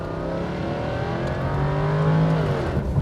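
Jaguar F-Type R exhaust in dynamic mode, a loud, close engine note rising steadily in pitch as the car accelerates hard, with no speech over it.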